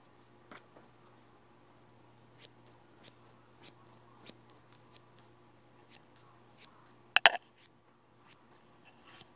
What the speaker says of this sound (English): Some people's personal favorite, basically, scissor sound.